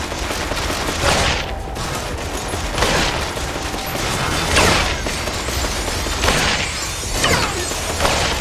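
Continuous loud gunfire from a co-op shooter, Killsquad, rapid overlapping volleys and bursts pulsing steadily as enemies are shot down, with no clear talking.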